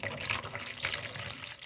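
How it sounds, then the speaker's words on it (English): Water is poured onto a Snow White waffle plant, a soft, steady splashing and trickling that runs quietly for a couple of seconds with no voices. "I need to add some more water."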